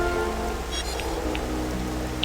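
Steady rain pours down in a continuous patter in the video game Xenoblade, with a few brief electronic blips on top and no speech.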